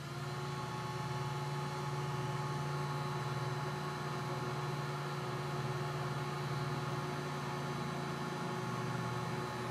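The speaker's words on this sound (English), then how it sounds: "Bring in the heated tool." A heat embossing tool blows steadily while melting embossing powder on a stamped card design, its even electric whir and hum staying constant and close throughout, with no pauses or talk.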